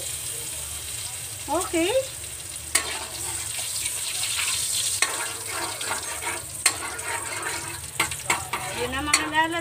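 Star margarine sizzles and fries in a pan with a steady crackling hiss, broken by clinks and stirring, while a person speaks briefly over it.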